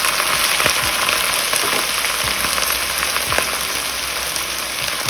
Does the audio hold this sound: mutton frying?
yes